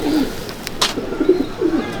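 Madrasi pigeons, champion birds kept in a loft in Liluah, Howrah, coo softly and repeatedly in low, rolling phrases, close by, with a brief rustle partway through.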